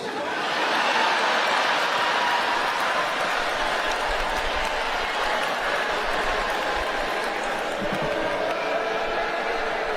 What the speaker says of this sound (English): Why y'all booing?